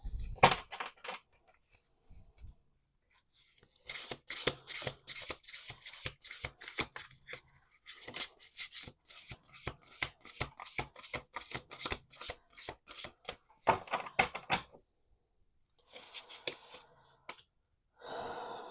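Tarot cards are riffled and shuffled in several quick bursts of crisp flapping and snapping, with short pauses between, close up and clear.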